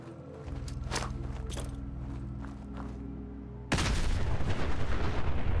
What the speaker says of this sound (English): I have a frag grenade.